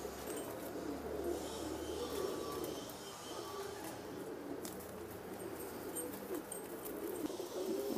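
Domestic pigeons coo softly at a breeder's loft, low rolling calls that sit faint beneath a steady background hum.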